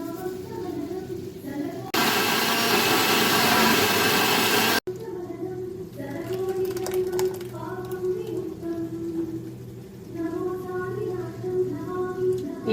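A kitchen mixer grinder whirs loudly for about three seconds, grinding soaked green gram with green chilies, cumin, curry leaves and salt into pesarattu batter, then cuts off abruptly and leaves quieter room sounds.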